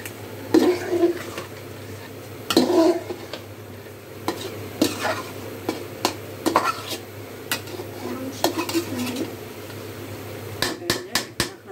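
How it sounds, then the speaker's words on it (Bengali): Chicken curry with potatoes being stirred in a pot, with repeated scraping and clanking strokes of a spoon against the metal over a steady low hum, close and fairly loud, with no voices. "আবার মাংসটা নাড়া দেওয়ার জন্য চলে আসলাম।"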